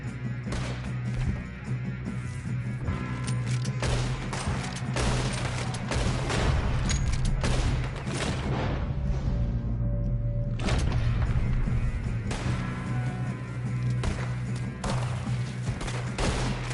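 Gunfire in a PS4 video game, with irregular bursts of shots and thuds over a steady droning game soundtrack, running continuously with brief lulls.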